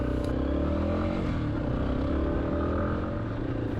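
Yamaha XT250 dual-sport motorcycle pulling away from a four-way intersection, its single-cylinder engine droning steadily and close throughout, with some road clatter and rushing wind.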